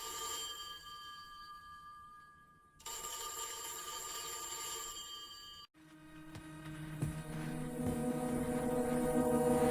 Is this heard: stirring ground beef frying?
no